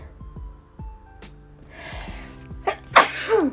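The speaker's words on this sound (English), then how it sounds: "I think I might sneeze again" A couple of sharp inhaled gasps build up to one loud, close sneeze, with a faint tonal hum in the background.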